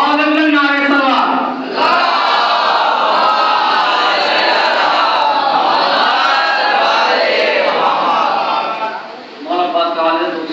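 A large crowd at a Muharram majlis chants the salawat in unison, loud and sustained for several seconds, then breaks off and starts again near the end.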